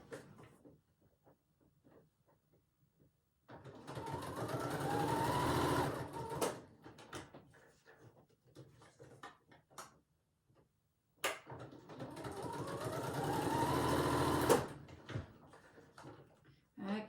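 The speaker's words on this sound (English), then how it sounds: "I'm just going to jump on the sewing machine." A sewing machine stitches junk journal pages in two loud, steady bursts of rapid whirring, each lasting a few seconds. Quiet talk and small handling noises fill the gaps between the bursts.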